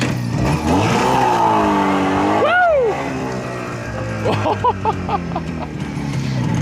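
A 1989 CZ 350 two-stroke motorcycle is started and ridden off. The engine revs up and down in loud, rising and falling sweeps, then settles into a choppy idle, heard close by.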